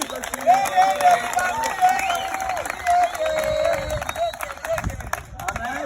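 Church congregation cheering and applauding for the Lord Jesus, a steady crowd roar with clapping lasting throughout, mixed with tonal voices or music.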